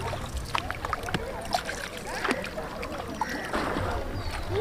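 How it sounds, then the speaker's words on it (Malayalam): A wooden rowboat moves across a backwater lake with faint water splashes and oar strokes, under a steady outdoor hiss and some distant background voices. "നല്ല ഒഴുക്കുണ്ട്, അത് കാരണം വള്ളം തുഴയാൻ കുറച്ച് ബുദ്ധിമുട്ടായിരിക്കും."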